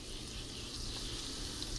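Butter sizzling and hissing in a hot frying pan as it melts before jack crevalle fish goes in, a steady close-up broadband frying crackle with no voices.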